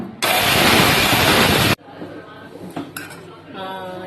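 A dried hibiscus grinder roars loudly for about a second and a half, cuts off abruptly, then faint clinks and rattles of the jar and dishes follow.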